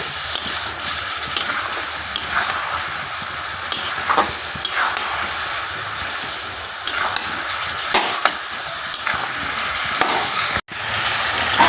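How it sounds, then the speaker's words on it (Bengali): Fried spices being stirred into chalta pickle in a pan, with a continuous close sizzle and intermittent scraping strokes of the spoon, steady and fairly loud throughout. "মশলাটা দিয়ে আবারও আমি নাড়াচাড়া করে নিচ্ছি"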